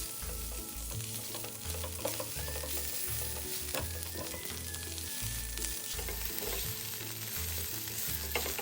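Shallot slices and strips of soaked shiitake mushroom stir-fry over medium heat in a pan, a continuous soft sizzle with intermittent scraping and stirring strokes, close by and fairly quiet throughout.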